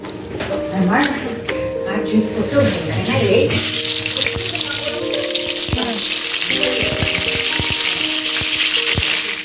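Khichuri going into a hot pan on a home stove, a loud steady sizzle and frying hiss that swells after a few seconds and holds, with stirring clatter and someone talking in the first part.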